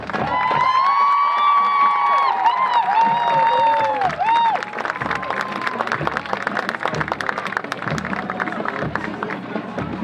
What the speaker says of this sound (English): Another round of applause for the Nebraska Bear Regiment.